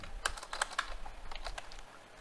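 Typing on a computer keyboard produces quiet, irregular clicking keystrokes in short bursts, close and faint, with no talking.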